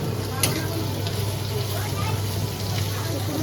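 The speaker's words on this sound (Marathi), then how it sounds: "आता मी त्याला चांगलं परतून घेणार आहे. थोडं लाल होईपर्यंत." Chopped onion fries in a pan for shahi paneer, a steady close sizzle with a faint background hum running throughout.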